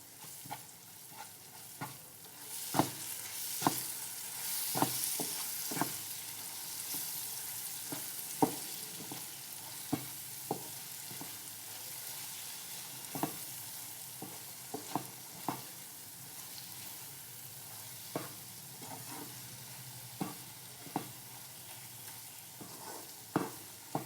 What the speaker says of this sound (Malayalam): എന്നിട്ട് ഇതൊന്ന് മിക്സ് ചെയ്തിട്ട് നമുക്ക് മാങ്ങയുമായിട്ട് മിക്സ് ചെയ്ത് കൊടുക്കാം.